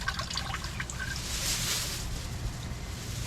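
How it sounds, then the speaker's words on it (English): A strong stream of water from a hose or sprayer for watering plants, a steady broad hissing rush with a low rumble underneath, constant throughout at moderate level, no talk. "That is a strong stream of water."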